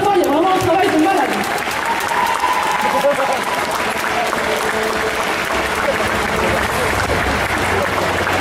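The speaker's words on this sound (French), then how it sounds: "Je vous demande de les applaudir bien fort" A festival audience at an indoor cosplay contest applauds the contestants in a dense, sustained wash of clapping and crowd noise, with a voice audible briefly at the start.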